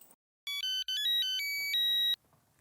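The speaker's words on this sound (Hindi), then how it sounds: "मैं सोडी को फोन लगा के पूछता हूँ।" A phone ringtone plays a short series of bright electronic tones, then holds one long note before stopping; quiet room otherwise.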